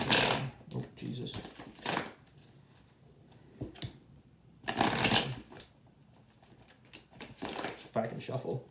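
Tarot cards are shuffled in repeated crisp riffling bursts, close and fairly loud, with a person talking quietly between and under the shuffles.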